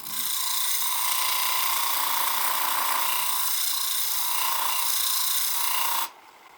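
A hand file rasping steadily against a bowl, one continuous close scraping stroke pattern for about six seconds before stopping abruptly.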